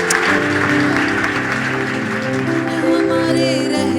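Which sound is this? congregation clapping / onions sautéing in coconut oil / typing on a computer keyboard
congregation clapping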